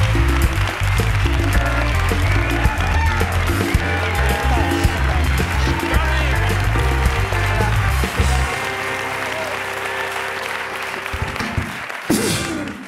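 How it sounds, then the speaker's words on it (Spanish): A television studio audience claps and cheers to welcome the guest Jordi onto a talk show, loud sustained applause over a thumping music bed that drops out near the end, followed by a brief final burst. "Un aplauso para él."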